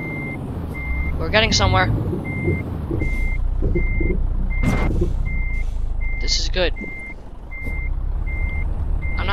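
Reversing beeps from a 30-ton tractor trailer backing up, a steady evenly spaced series of tones over a low truck engine rumble, with someone talking over part of it.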